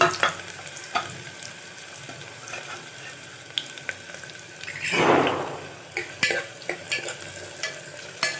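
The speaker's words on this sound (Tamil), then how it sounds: "எண்ணெய் காஞ்சிருச்சு. நம்ம நறுக்கி வச்சுருக்கிற வெங்காயத்தை சேர்த்துக்கலாம்." Chopped onions dropped into hot oil for a Tamil kothu curry, giving a faint crackling sizzle with a louder burst of frying midway and occasional stirring scrapes around it.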